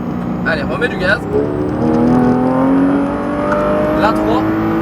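A Porsche 991 GT3 RS accelerating flat out on the La Ferté track, its engine note climbing loud and close in a rising wail, with someone talking over the roar.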